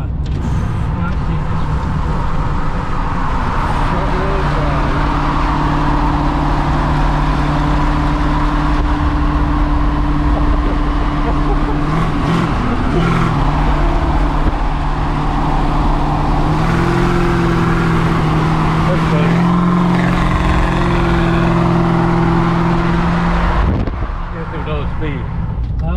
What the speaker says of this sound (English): This is the 1940 Diamond T front wheel drive.